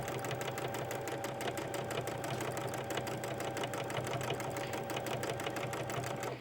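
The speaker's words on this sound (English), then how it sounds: "that's what you use for the free motion setting, you are controlling the fabric with your hands." A sewing machine runs fast and steady while free-motion quilting a landscape quilt, a dense, even mechanical hum and rapid needle chatter, close and constant, with no voices.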